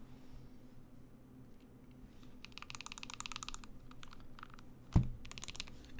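Typing on an Ikki68 Aurora prototype mechanical keyboard with scooped F and J homing keys: fast bursts of close, crisp key clicks with short pauses, and one louder thump near the end.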